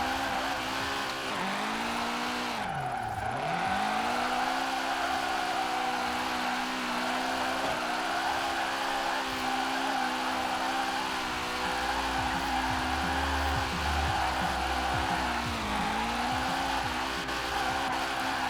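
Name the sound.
car drifting and racing in video game Forza Horizon 4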